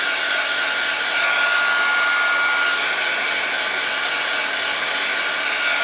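Heat gun blowing hot air over packaging on cold process soap, a steady broad hiss lasting throughout, loud and close with no talk.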